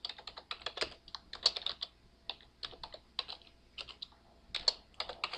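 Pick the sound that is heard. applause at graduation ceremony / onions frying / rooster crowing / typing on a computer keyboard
typing on a computer keyboard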